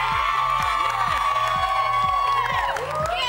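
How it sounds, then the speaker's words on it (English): A live television studio audience on a children's show cheers and whoops loudly and without a break, with children's high shouts and a little clapping in the steady roar. "A big cheer!"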